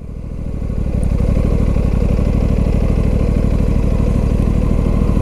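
An Aprilia RS 457 motorcycle's 450cc engine pulls away at low revs around 1500 RPM with a loud, steady, throbbing note. It is recorded close to the bike, and the pitch rises only slightly.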